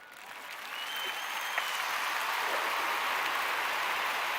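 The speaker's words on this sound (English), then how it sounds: "Hold on, that can get a clap." An audience breaks into applause during a live show, swelling from a soft start into steady, dense clapping that holds at full strength for several seconds with no one speaking over it.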